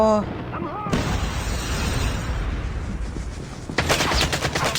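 Gunfire in the mobile shooter Call of Duty Mobile crackles in rapid bursts, building to a dense, louder volley toward the end, with a voice briefly heard at the start.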